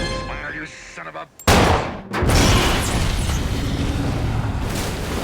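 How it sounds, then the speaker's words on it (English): Movie explosion from Sharknado: a short stretch of dialogue and music gives way to a sudden loud blast with a sharp burst, then a long rumbling roar of debris and fire that stays loud to the end. "Maybe it's like a directed explosion."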